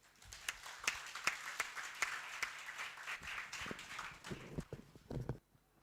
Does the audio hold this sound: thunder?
no